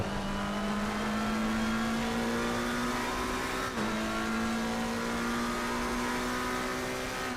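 A McLaren race car engine in Assetto Corsa Competizione drones at a steady high pitch, loud and close, with a brief dip around the midpoint before it settles back into the same sustained tone.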